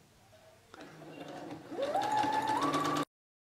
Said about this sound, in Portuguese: E vou costurar.